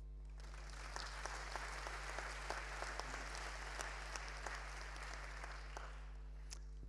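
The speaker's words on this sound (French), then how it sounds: "Alors d'abord, vous pouvez applaudir Max, je vais vous expliquer pourquoi après." Audience applause at the Paris Air Forum 2014 aviation conference, a steady wash of many hands clapping at moderate volume for several seconds, with a constant low hum underneath and no talk.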